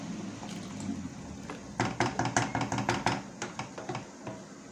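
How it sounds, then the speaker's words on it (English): Hot water is poured over chicken in a cooking pot for Moroccan seffa. A quiet start leads into a close run of splashing, gurgling pulses that taper off near the end. "Cover the chicken with water."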